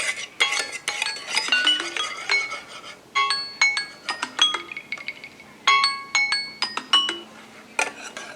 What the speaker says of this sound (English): I'm just going to stir it for a second,